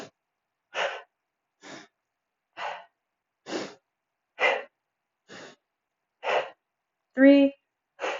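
Slow, deliberate breaths are taken in and out in a guided yoga twist, with about nine separate audible puffs of breath evenly spaced and close. The last one is a voiced sigh.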